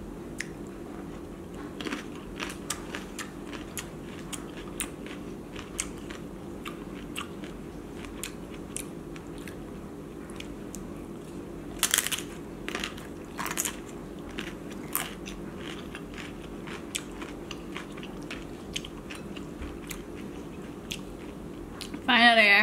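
Soft, wet chewing and occasional crunchy bites of crab and shrimp ceviche close to the mic, irregular and steady throughout, with a few sharper crunches along the way.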